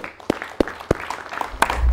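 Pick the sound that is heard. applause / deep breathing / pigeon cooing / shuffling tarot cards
applause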